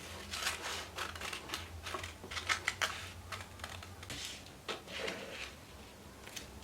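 Scissors snip through fabric in a quick series of close, crisp cuts, irregular in rhythm and heard alone without talk.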